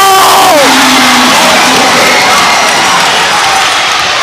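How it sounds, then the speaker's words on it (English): Loud, dense crowd roaring and yelling at a South Dallas finals basketball game, a sustained wall of cheering with a few whoops rising early on and no clear talk over it. "I know y'all heard our crowd in the background."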